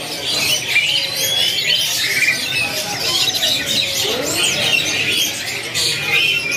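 Caged canaries at a bird market, including white canaries, chirping and squawking in a dense, continuous chorus of bright overlapping calls close by, with busy market noise underneath.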